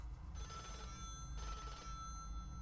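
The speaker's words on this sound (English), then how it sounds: "an antique telephone ring echoes throughout the control room" An antique telephone rings in a control room, two quiet double bursts of a bright bell with a pause between them and steady low background hum, no talk.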